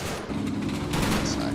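Guns fire high-explosive shells in the World War II strategy game Combat Mission: Battle for Normandy. The dense, continuous volley of booming shots and rattling fire stays loud throughout the short burst.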